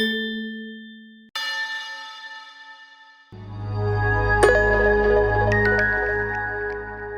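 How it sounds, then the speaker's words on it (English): Sampled orchestral tubular bells struck several times, each clear metallic tone ringing out and slowly fading, later joined by deeper sustained notes. "tubular bells."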